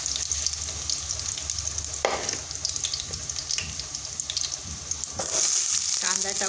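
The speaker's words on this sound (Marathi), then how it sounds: "आपण लसूण टाकून घेऊ।" Garlic sizzling in hot oil in a steel wok (kadhai), with a loud continuous crackle and stirring scrapes that turn brighter and louder near the end, plus a brief splash of running water.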